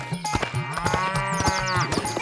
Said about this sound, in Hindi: भैंस को देखकर गेंदा सेठ की पत्नी बोली, अरे ये तो रोंदू की भैंस राम प्यारी है।